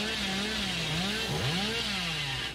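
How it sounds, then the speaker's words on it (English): The Hillbilly's chainsaw from Dead by Daylight revving loudly and steadily, its engine pitch rising and dipping with a brief waver midway before settling, close and alone throughout. "Can I chainsaw through here?"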